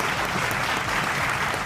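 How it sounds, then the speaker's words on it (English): Audience applause at a school debate on entrance examinations, a brief, even wash of many hands clapping together at moderate loudness, with no voices above it. "A round of applause to the listener."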